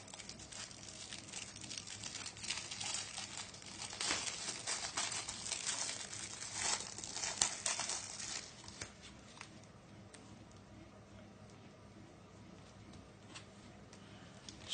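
Packaging for a WiFi CCTV camera's USB charger being opened by hand, close rustling and crinkling of plastic and paper that peaks in the middle and then fades to quieter handling.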